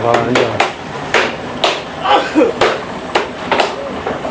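Fish are chopped into pieces at a busy fish market in Colombo, with a string of sharp, close cleaver thuds at irregular intervals while people talk nearby.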